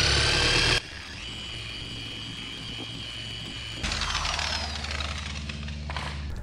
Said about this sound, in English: Now, we're gonna switch to the dual action polisher.